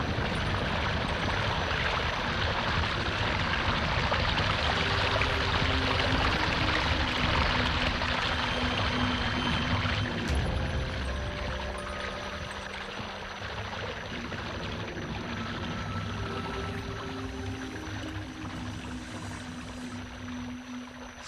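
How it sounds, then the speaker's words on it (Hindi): Broadband rushing water from a swelling river in a radio play sound effect, loud and steady for the first half, then easing somewhat with low tonal rumbles underneath, no voices heard. "पुल के उस पार पानी बढ़ रहा है"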